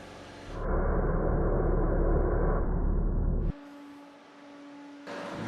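A paint spray gun laying down a metallic automotive basecoat blend in an autobody repair booth hisses steadily and loudly for a few seconds, then cuts to a lower mechanical hum.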